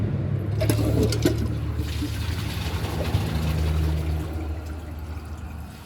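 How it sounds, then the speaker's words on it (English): Water rushes and gurgles in a steady low roar for several seconds, a 2008 Kohler Wellworth toilet flushing close by, fading slightly at the end. "Let's see if it flushes."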